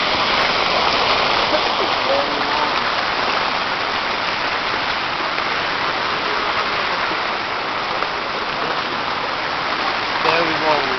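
River water rushing at a river crossing, a loud continuous broadband wash of flowing water filling the whole stretch, with faint voices underneath.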